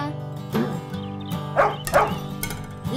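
A cartoon dog barks and yips in short bursts within a cheerful Spanish-language children's farm song, the barks sitting over steady musical accompaniment.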